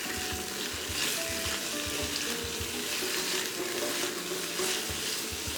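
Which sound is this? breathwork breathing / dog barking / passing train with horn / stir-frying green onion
stir-frying green onion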